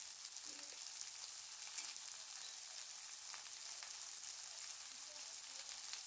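Potatoes and soy chunks frying together in a pan give off a steady, soft sizzle that holds evenly throughout, with faint stirring and no talk.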